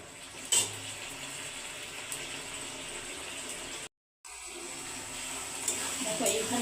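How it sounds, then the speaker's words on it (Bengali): Water is poured into a pan of pabda fish curry with potatoes, a steady close splashing and trickling that runs almost the whole time, broken by one short silent gap. "আমি একটু পরিমাণ দেখে জল দিচ্ছি।"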